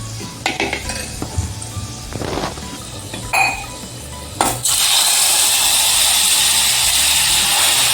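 A spoon stirs dal with asafoetida in a metal pot, giving a few scattered clinks and scrapes, then a steady loud hiss of sizzling takes over for the last few seconds.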